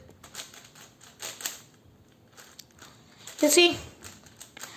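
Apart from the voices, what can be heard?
QiYi QiFan S 6x6 cube turning, clicky clack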